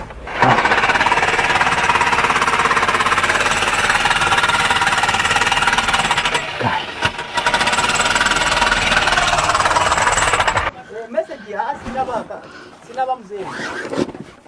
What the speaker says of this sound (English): Makita. Demolition hammer.